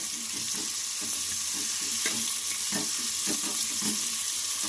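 Onions fry in oil for jeera rice with a steady, close sizzle and crackle, punctuated by light scraping stirs, and no voices over it.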